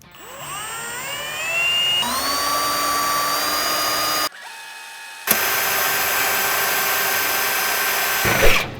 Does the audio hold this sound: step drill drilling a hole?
yes